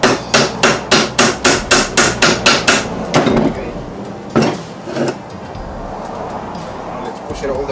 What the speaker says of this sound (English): Push it all the way in with the tool or with the hammer and another bearing, ball bearing.